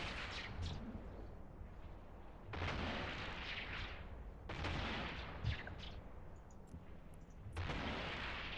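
Heavy ship guns in the space game EVE Online fire in booming volleys every couple of seconds, each burst loud and rumbling over a continuous background drone.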